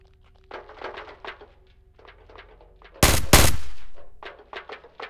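Gunfire from the Roblox game Hellmet: a quiet stretch of scattered clicks and thuds, then a loud double burst of shots with a ringing decay, followed by more faint taps.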